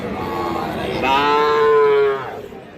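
A Sahiwal bull calf, about six months old, lets out one loud, close, drawn-out moo that rises and then fades, set against a faint murmur of a cattle market crowd.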